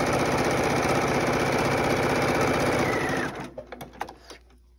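A sewing machine stitches seams on a quilt block with a rapid, steady mechanical whirr and needle chatter for about three seconds, then stops, leaving a few soft clicks and handling sounds nearby.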